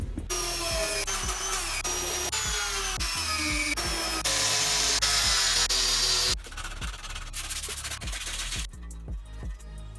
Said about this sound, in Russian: Эта вот насадка надевается вот сюда, вставляется в сам гравер.